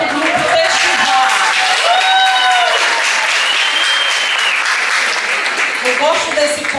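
Crowd at a church gathering applauding a youth group, with sustained clapping and scattered cheers and whistles, loud and close throughout.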